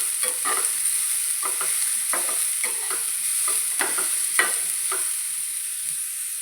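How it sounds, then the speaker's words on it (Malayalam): Beetroot fries in a pan with green chilli, garlic and ginger for a Kerala-style pickle, its steady bright sizzle broken by repeated scraping strokes of a spoon stirring it, with no voices. "ബീട്രൂട്ട് ഇട്ട് നന്നായി ഇളക്കി."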